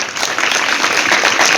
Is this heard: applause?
yes